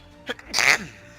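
One sharp sneeze comes close up, a short intake followed by a bright, explosive burst, then quiet.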